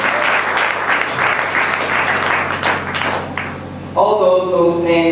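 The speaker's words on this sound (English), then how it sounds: "Kindly let us give him a round of applause for his tremendous input in the program." An audience at a devotional talk about Lord Jagannatha gives steady, fairly loud applause that fades near the end as a sustained tonal, musical sound comes in.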